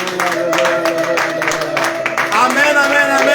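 A church congregation cheers and claps for the Lord, with steady broadband clapping and vocal acclaim throughout, voices and shouts mixed in under a lively crowd.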